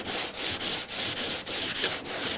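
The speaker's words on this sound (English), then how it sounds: "To kind of sand through here." Steady rhythmic scraping of hand sanding body filler on a car body, back-and-forth strokes roughly every third of a second, close and continuous with no talking.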